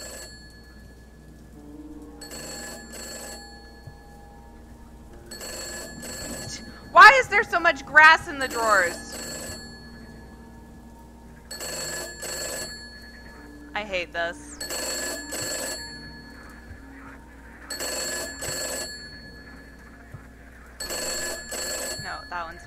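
An old-style telephone rings repeatedly with regular bursts inside the horror video game Gray Dawn, alternating with short gaps, while someone talks over it partway through.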